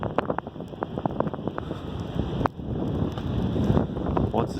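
Strong wind blowing as a blizzard begins in 2018, a loud, rough rushing roar buffeting the microphone continuously, with scattered gusty thumps and no talking.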